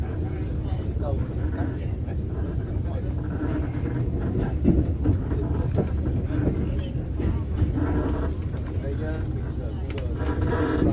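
NSW TrainLink Xplorer train running from Canberra toward Queanbeyan and Sydney, a continuous low rumble and rattle of the carriage heard from on board, with people talking over it.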